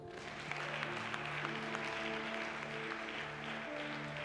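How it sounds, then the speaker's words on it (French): Congregation at a church worship service in Côte d'Ivoire-style French-speaking setting applauding and cheering, a steady dense wash of clapping with sustained musical tones underneath throughout. "Acclamez Jésus"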